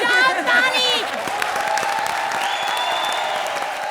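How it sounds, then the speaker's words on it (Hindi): Clapping and cheering from a comedy show's studio audience, a dense steady wash that holds at a fairly loud level throughout, with voices heard over it near the start. "बजाओ ताली भाई लोग, बजाओ ताली"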